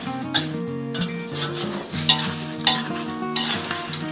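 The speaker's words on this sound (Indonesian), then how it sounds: "ini menandakan kalau gorengan belalang ini sudah kering ya" Grasshoppers deep-frying in hot oil, with a continuous sizzle while a utensil stirs and scrapes the pan, giving several sharp clinks.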